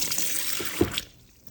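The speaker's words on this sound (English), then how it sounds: "I'm going to wring the water out" Water being wrung out of a washed garment by hand over a sink, a steady close trickle and splashing that stops abruptly after about a second.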